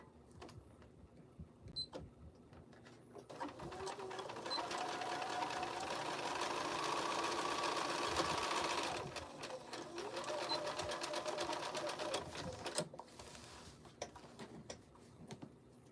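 A sewing machine stitches a straight line across fabric, its steady rapid motor run building from about two seconds and holding through roughly thirteen, with a brief dip near nine seconds, loud and close with no talking.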